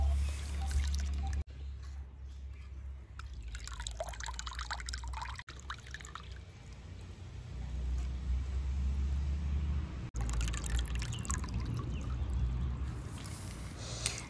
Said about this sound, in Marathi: चांगलं 2 ते 3 वेळा स्वच्छ पाण्याने ओला जवळा धुवून घेऊया